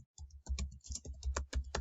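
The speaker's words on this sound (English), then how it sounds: "Oh, I'm typing in the size box still." Quick, soft clicks of a computer keyboard being typed on at close range, a rapid irregular patter of keystrokes with no voice over it.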